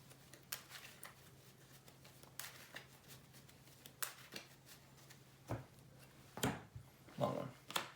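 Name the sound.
shuffling a Yu-Gi-Oh! card deck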